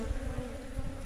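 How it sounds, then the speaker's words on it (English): Honey bees buzz close by at an open hive in a low, steady drone, many wings humming together. "This is bees."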